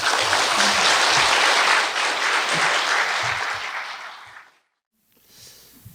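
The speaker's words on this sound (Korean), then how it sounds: "큰 박수로 모시겠습니다." A seated audience at an academic Buddhist conference claps warmly to welcome a keynote speaker, dense steady applause that gradually thins, tapers off and stops, leaving brief silence before faint room noise returns.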